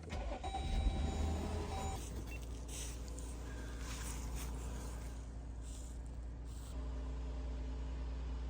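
An SUV's engine cranks and catches on a freezing 32°F winter morning during off-grid car camping, a loud low burst for about two seconds that settles into a steady, close idling hum.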